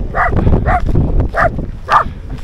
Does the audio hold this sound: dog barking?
yes